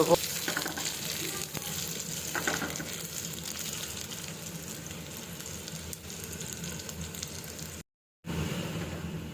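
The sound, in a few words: frying chopped dry chillies for a taro flower recipe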